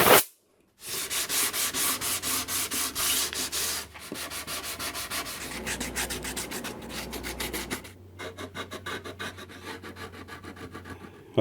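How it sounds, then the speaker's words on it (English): Rhythmic hand sanding strokes rasp across the wooden top of a 1946 STC 548 timber tube radio cabinet, loud and near, in quick back-and-forth passes broken by short pauses, with no talking. "I started to sand this top off"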